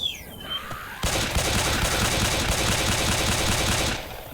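In Left 4 Dead 2 on the Hard Rain campaign, rapid pistol gunfire rattles continuously for about three seconds, loud and close, after a brief quieter lead-in.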